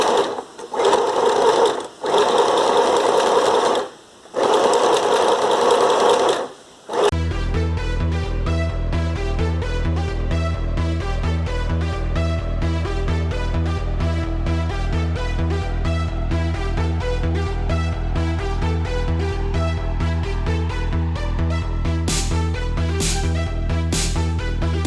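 A sewing machine stitches along both sides of a hand-printed fabric face mask, with a few short start-and-stop bursts first and then a long, steady, rapid mechanical whirr close by.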